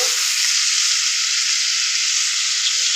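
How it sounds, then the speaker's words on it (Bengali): Prawns frying in hot oil, a dense, even, loud sizzling hiss that holds steady throughout with no other sounds. "মাছগুলো আমি হালকা করে ভেজে নেব।"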